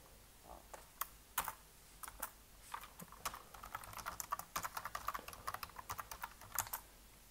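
Fingers typing on a computer keyboard, quiet irregular clicks and taps that start sparse and become a denser, quicker run of keystrokes, with no voices.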